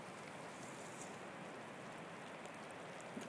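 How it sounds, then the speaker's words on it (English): Heavy rain pouring in the mountains near a glacier, a steady faint hiss of falling drops with no break. "it's pouring with rain now"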